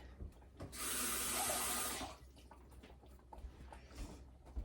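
A kitchen tap runs for about a second while a pot used for shepherd's pie is rinsed out, a bright hissing gush between quieter clatter and handling noises.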